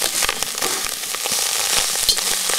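Side pork and sauerkraut fry in a greasy pan, a dense, steady crackling sizzle with brief louder pops as the mix is stirred, close and continuous throughout.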